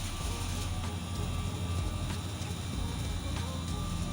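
An air conditioner runs outdoors, giving a steady broadband whoosh and low rumble that stays constant and fairly loud throughout, with faint clicks over it.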